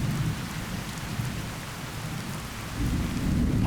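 Steady rain pours with low thunder rumbling during a thunderstorm with lightning in the video game Fallout New Vegas, a dense continuous wash that swells slightly near the end, with no talking.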